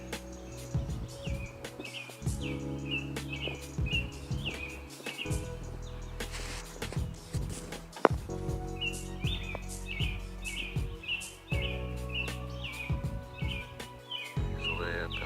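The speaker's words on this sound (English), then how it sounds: "Listen, you can hear the robins. That's the sound they make." Robins sing from high up in a tree, repeating short bright chirping phrases in bursts over a steady, busy background of other sound.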